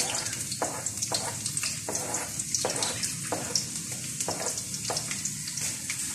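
Garlic frying in hot oil in a pan crackles with a steady close sizzle, broken by regular soft bursts as it is moved about.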